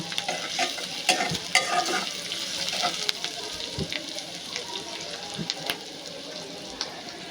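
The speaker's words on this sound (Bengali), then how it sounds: "কিছুটা কাঁচামরিচ এবং পেঁয়াজ কুচি দিয়ে দিচ্ছি।" Green chillies and chopped onion fry in a hot pan with a steady sizzle, punctuated by sharp scraping clicks as a spatula stirs them, close and fairly loud throughout.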